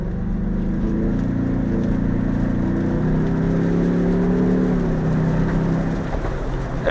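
A 2024 Ford Bronco Outer Banks pulls forward under acceleration, its engine drone rising steadily inside the cabin over a constant rush of road noise, with no talk.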